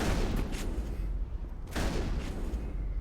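Shotgun blasts in the Mass Effect video game, two loud, close booming shots about a second and a half apart, each with a short crackling decay over a dense battle din.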